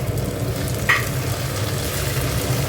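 Onions fry in a pan with a steady, close sizzle, broken once by a brief clink of the stirring utensil against the pan, with no voices.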